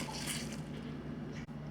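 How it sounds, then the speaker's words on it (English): Water squeezed out of grated potatoes in a strainer, a soft continuous trickle and drip of liquid at close range under a faint steady hum. "let me go ahead and get this squeezed out"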